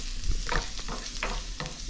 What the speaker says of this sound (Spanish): Voy a poner a freír el ajito que tengo aquí finamente cortado. Y le voy a menear un poquito.